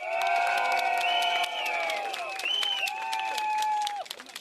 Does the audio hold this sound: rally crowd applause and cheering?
yes